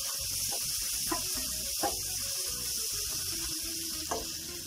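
Cabbage and egg curry sautéing in a pan, a steady close sizzle and hiss with occasional soft scrapes of stirring, no talk.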